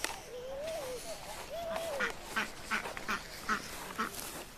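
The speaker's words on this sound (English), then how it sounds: "duck, duck, duck." Ducks quack several times in quick succession out in the open during pouring rain, fairly faint and mid-distance, and a few softer calls come before them.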